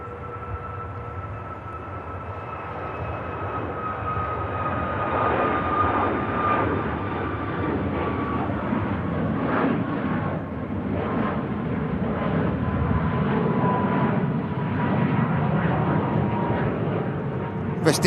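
A Ryanair jet departs runway 05R at Manchester Airport, its engine roar building and sustained at moderate distance, with a whining tone drifting across the noise.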